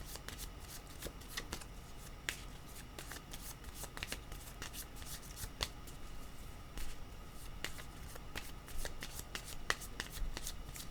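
Tarot cards shuffled by hand in a steady run of soft riffling clicks and slaps, close and continuous for the whole stretch, with no talking over it.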